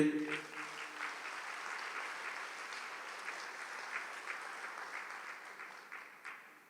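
A church congregation at a priest's sermon on marriage claps together in sustained, fairly even applause that carries on for several seconds before slowly fading.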